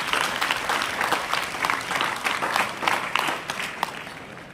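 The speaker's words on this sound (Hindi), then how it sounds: "और आप एक बार जोरदार तालियां बजा सकते हैं आज के प्रोग्राम के लिए" A school audience at a language festival program claps loudly and densely for several seconds, with no talk over it.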